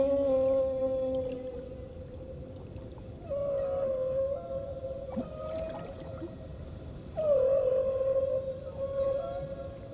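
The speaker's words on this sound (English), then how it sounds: "During these long winter months on the Silver Banks, humpback whales sing." Humpback whale song on the Silver Banks: long, moaning tonal calls that rise and fall, repeating over a steady underwater hiss, with occasional clicks and creaks.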